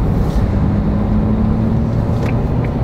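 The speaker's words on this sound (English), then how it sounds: "This is one torquey engine" Engine of a new Isuzu D-Max pickup driving on the road, a steady low drone with a constant hum and rumble under road and wind noise, heard from inside the cab, no talk.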